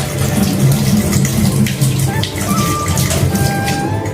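Curry leaves are rinsed under a running kitchen tap, giving a steady, close, loud splash of water with no talk.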